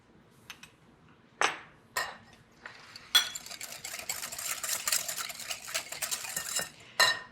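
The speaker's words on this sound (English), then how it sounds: "breaking them with a wire whisk" A wire whisk beats egg yolks with sugar, giving a few separate metallic taps and clinks against a bowl, then a run of quick, steady scraping strokes up close.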